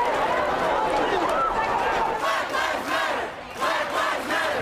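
A large crowd of protesters clashing with police in a US street shouts and yells together in surging waves, voices overlapping loudly with moments of slight lull, like an agitated street gathering.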